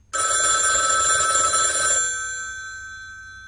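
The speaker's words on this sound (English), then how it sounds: "they all listen to the telephone ringing" An old telephone bell rings once in a continuous burst for about two seconds, then its metallic ring fades away into quiet. The ring is clear and close, with no voices over it.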